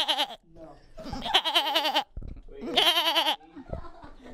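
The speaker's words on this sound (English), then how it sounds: "they're just gonna hear goat noises in the background" A goat bleats loudly several times in wavering, nasal calls, with a person talking nearby between and under the bleats.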